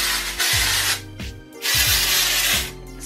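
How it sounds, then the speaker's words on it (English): Two long hissing bursts of texturizing hair spray from an aerosol can, close and loud, separated by a short pause with faint clicks. "Spray it on the top bits,"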